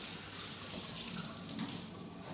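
Tap water runs steadily from a kitchen faucet while fresh parsley is rinsed for chopping, a continuous close hiss with no talking.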